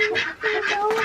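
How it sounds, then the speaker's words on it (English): Several ducks quacking repeatedly inside a coop in a steady, close chorus of nasal calls with no pauses. "The ducks are quite content."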